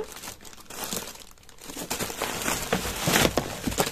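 Bubble wrap crinkles and crackles as it is handled during the unboxing of scrapbooking supplies. The sound comes in close, irregular bursts that grow louder toward the end.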